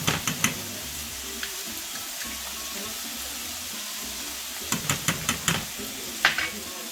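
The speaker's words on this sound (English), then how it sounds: "I'm going to add the sausage into the other pan that I've already had prepared here." Sausage and spice paste sizzle quietly in a pan, a steady low crackle broken by a few sharp clicks and scrapes of a utensil stirring near the start and again toward the end.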